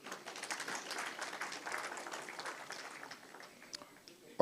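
Faint round of applause from delegates at a teachers' union provincial general council, scattered clapping that thins out over a few seconds with a sharp knock at the end.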